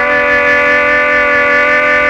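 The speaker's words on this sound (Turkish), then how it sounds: "Bu kornalardan biri." A car horn in a comedy radio play, sounding as one loud, sustained, multi-tone blast held steadily throughout, with no voices.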